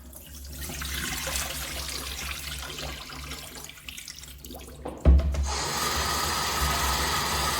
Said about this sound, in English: Now I'm going to give them a quick wash to make sure that they are nice and clean.